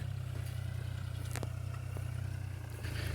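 A New Holland TT50 tractor engine idles close by with a low, steady, throbbing drone and a few faint clicks and scrapes over it.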